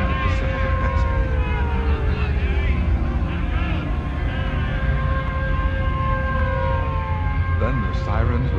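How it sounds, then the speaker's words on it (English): A civil defense air raid siren rises and falls in long, slow sweeping tones. Several siren voices overlap, loud and continuous throughout. "Then the sirens would rise and then fall slowly."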